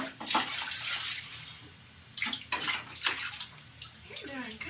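Water splashes and pours as a baby is rinsed in a bath, with intermittent close sloshing bursts and quiet voices between them.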